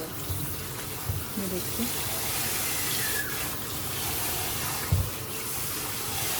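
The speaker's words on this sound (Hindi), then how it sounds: "इसको 2-3 दफ़ा तकरीबन हम इसको धोएंगे ताकि इसका नमक अच्छे तरीके से निकल जाए।" Tap water runs steadily over bitter gourd being washed by hand, a continuous splashing gush with a few soft bumps and handling noises, while someone speaks briefly.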